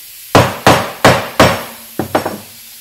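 A hammer pounds a wooden picture frame part into place with four sharp, loud, evenly spaced blows, then three quicker, lighter taps, close up with no talking.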